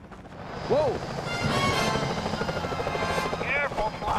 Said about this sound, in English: Those security choppers are bad, too!